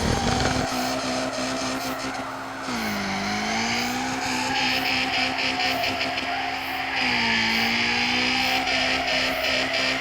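A video game car drifts around a custom map, its engine droning steadily while tires squeal in long sustained wails that bend in pitch, loud and continuous throughout.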